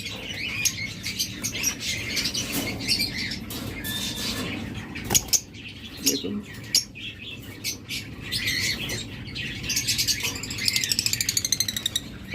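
Pet budgerigars, cockatiels and lovebirds kept as breeding pairs chirp and squawk densely and continuously, with bursts of wing flapping standing out, all close and fairly loud.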